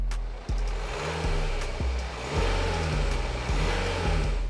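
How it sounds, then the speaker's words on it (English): A car with its stock exhaust revs up and settles repeatedly, the engine note rising and falling in several short pulses, steady and fairly close with no talk. "For the beginning, let's listen how the car sounds in stock."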